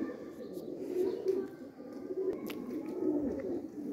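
Pigeons coo steadily in low repeated throaty calls while being fed grain outdoors, a close flock murmuring continuously with a few faint sharper chirps and light background rustle.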